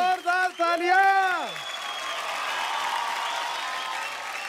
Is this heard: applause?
yes